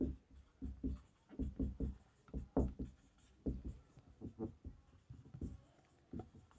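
Chalk or marker strokes on a board during a chemistry lesson, a steady run of short, close scratching strokes in quick rhythmic bursts with brief pauses between words.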